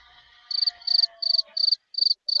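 A cricket sound effect chirps in six quick, evenly spaced bursts, each a rapid trill, loud and close, with a faint hum underneath before the first burst.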